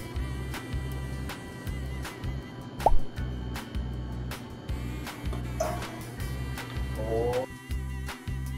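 Flour is folded into chocolate chip zucchini muffin batter, giving repeated soft wet plops and squishes in a slow, regular rhythm, close, with a utensil clink in the middle.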